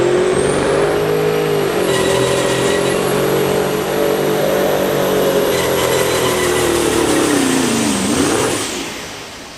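A Peterbilt pro stock semi truck at an Ohio truck and tractor pull roars loud and steady at high revs throughout, its pitch climbing briefly, dipping and rising near the end before the engine fades off.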